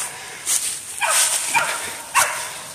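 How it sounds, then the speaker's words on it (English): A young feist pup barks at a squirrel up a tree, four sharp high yips spaced about half a second apart, fairly close and clear outdoors with no talking. "There's a little squirrel dog treeing up"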